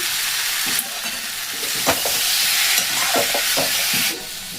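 Steady frying hiss fills the clip as nuts go into hot oil with softened tomato, cauliflower and potato for a winter cauliflower khichuri, with a few sharp spoon clicks and scrapes, close and fairly loud, no voices.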